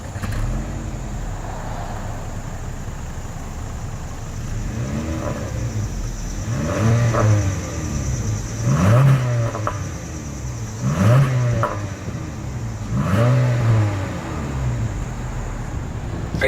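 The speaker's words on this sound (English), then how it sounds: "As always, here is that exhaust clip." A 2026 Honda Civic Sport idles, then its exhaust revs in several distinct bursts spaced about two seconds apart, each rising and falling back, close and fairly loud.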